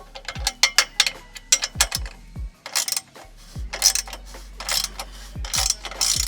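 A hand-turned socket wrench ratchets on car exhaust hardware, close and clicking in quick bursts of pawl clicks separated by brief pauses as the handle swings back and forth.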